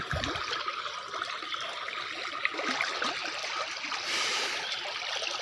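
A small stream branching off a large river trickles and gurgles continuously, soft and steady at a short distance, with no voices.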